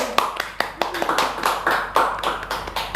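A small audience claps in uneven bursts at an Indonesian talk event, sharp hand slaps repeating roughly every few tenths of a second with a murmur of voices beneath.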